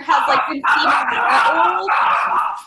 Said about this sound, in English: that is a dog, a wild beast, some may say